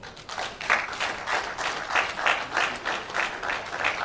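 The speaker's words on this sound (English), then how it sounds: "all participants, all members of the audience, I think we deserve a round of applause." Conference audience applauding at the end of a technical session of an international ICT multi-conference, a dense and steady round of clapping heard on its own without talk.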